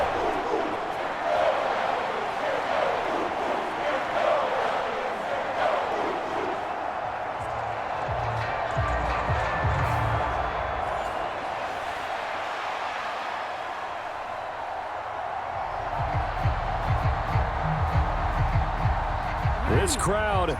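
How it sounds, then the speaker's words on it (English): A roaring stadium crowd in the Madden NFL 25 video game during a Ravens versus Browns matchup, a steady dense wash of cheering that swells louder near the end, running under continuous commentary voices. "This crowd turning up the decibel level."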